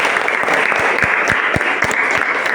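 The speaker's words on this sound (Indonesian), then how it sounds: "Tepuk tangan dulu anak-anak" A classroom of children claps together in a dense, steady patter with some louder individual claps standing out close by.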